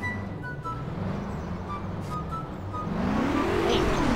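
Car engine in the Garry's Mod sandbox game, a steady low drone that swells into a revving climb near the end.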